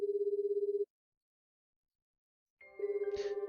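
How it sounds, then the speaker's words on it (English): A phone call rings in a visual novel game, a steady electronic ringtone with a repeating pulsed pattern that cuts out, then starts again after a short silence with a brief chime over it. "Grumbling to myself, I dig around inside my bag for my phone and quickly call May's number."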